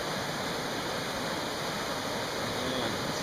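A substantial river rushes past in a steady, broadband roar of water, continuous and fairly close with no voices.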